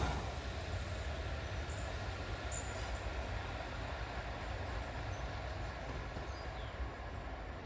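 A train waits at a small Maritime Line station in Cornwall, heading for Truro, giving off a steady, even rumble with no voices.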